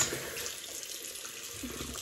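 Tap water runs into a bathroom sink during a wet shave with a safety razor and shaving cream, a steady nearby splashing flow lasting a couple of seconds with no talking.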